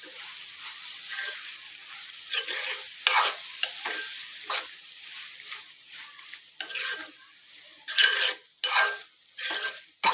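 A spoon stirs spices into a broad bean curry frying in oil in a pan, giving bursts of scraping and sizzling with metal clinks in between, close and irregular, with no talk.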